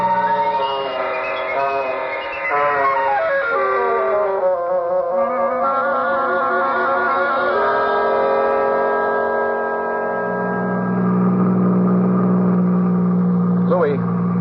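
An old-time radio drama car effect: a droning motor whose pitch sweeps up and down through turns, then settles into a sustained hum with a brief higher whine near the end, with voices at times.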